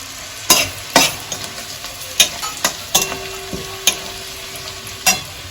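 Sliced green chilies are added to a frying pan while making chilli chicken, with close, sharp scraping and stirring knocks over a steady background sizzle of hot oil and no voices.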